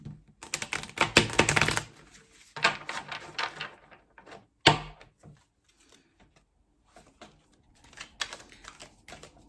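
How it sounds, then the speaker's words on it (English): Tarot cards riffle and slap together in several rustling bursts, with pauses and soft taps between them, close up and without talking. "you have Justice in the shuffle. I don't mean to do that, dropping the cards."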